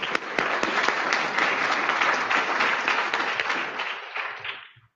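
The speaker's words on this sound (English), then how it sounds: "Please give Lucia another round of applause." Luncheon audience breaks into full, dense applause that holds steady for several seconds before tapering off and fading out at the end.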